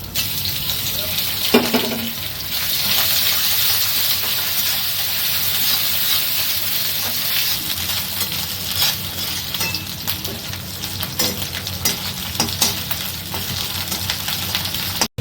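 Grated coconut stir-fried in a pan while making Bengali chana dal, a steady bright sizzle with scraping and stirring clinks from a utensil, continuous and close.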